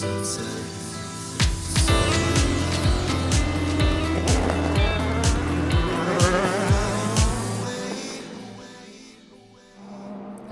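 Race cars, including an Aston Martin and a BMW, scream past at the 1000 Miles of Sebring endurance race, a rapid run of close engine passes with sharp whooshes and pitch drops, loud and continuous before fading near the end.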